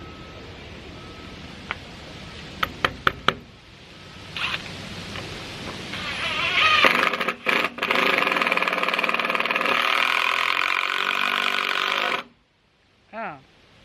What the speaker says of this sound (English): Then we have this Milwaukee brushless impact driver.